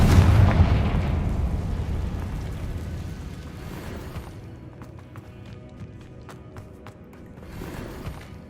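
A Confringo fire spell blasting in the Hogwarts Legacy video game, opening with a heavy, booming explosion that rumbles and fades, followed by scattered light crackles and debris ticks before a softer swell.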